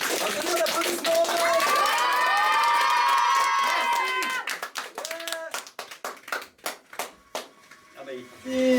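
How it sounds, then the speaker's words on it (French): At a children's summer magic workshop show, the audience bursts into loud clapping with cheers and children's shouts, then the applause thins into scattered individual claps and voices. "Un tonnerre d'applaudissements."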